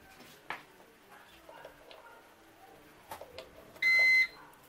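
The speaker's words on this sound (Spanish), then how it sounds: "Y se escuchó ya el ruidito de la alarma." A bread machine, just plugged in while making basic white bread, gives one loud electronic alarm beep near the end, steady and high-pitched, after quiet handling noises.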